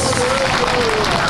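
An audience at a school alumni band's gala concert claps in a dense, loud burst of applause that fills the space throughout.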